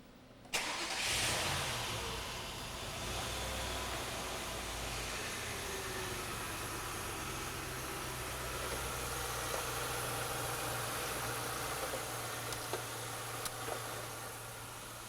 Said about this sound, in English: So we're going to go ahead and start the engine